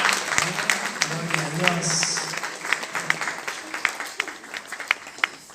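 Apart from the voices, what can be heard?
church congregation applause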